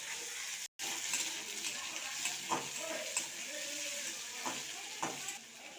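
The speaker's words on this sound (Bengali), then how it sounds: "আলু আর পেঁয়াজটাকে লো ফ্লেমে আস্তে আস্তে করে নেড়ে নেব" Potatoes and onions stir-fried slowly over a low flame: a constant gentle sizzle with soft, intermittent scrapes of a spatula against the pan, close and moderately quiet, with a brief dropout near the start.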